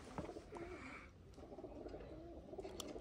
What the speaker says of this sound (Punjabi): ਕਬੂਤਰ ਚੈੱਕ ਕਰੋ ਤੁਸੀਂ